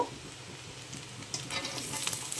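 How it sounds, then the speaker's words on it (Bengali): Onions and cut snake gourd fry with dried red chilli in a pan, giving a soft, continuous sizzle with light stirring scrapes that grow slightly louder partway through. "ভালো করে ভাজবো। বেশ খানিকক্ষণ ভাজলাম।"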